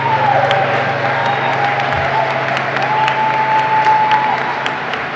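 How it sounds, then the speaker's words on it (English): Graduates and guests at a Cornell College spring commencement give a sustained round of applause, a dense crowd clapping steadily throughout, with a faint tone and a low hum in the background. "Class of 2026, let's give them a round of applause."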